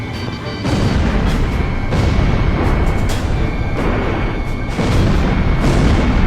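Missile launches and blasts in the Ace Combat Zero flight combat game, Mission 13: a loud, continuous roar of jet noise punctuated by repeated booming explosions roughly every second, with no talking.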